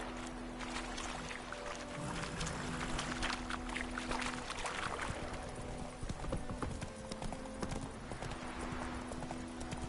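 Roach, a horse in The Witcher 3 video game, trotting with clear rhythmic clip-clop hoofbeats over a continuous outdoor ambience, moderately close and steady throughout.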